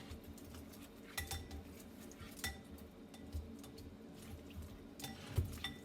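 Tongs clink and scrape against a bowl while tossing garlic parmesan chicken wings to coat them, in soft, irregular metallic taps and rustles at close range.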